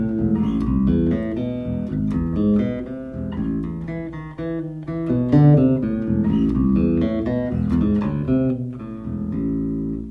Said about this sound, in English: The first section sounds like this.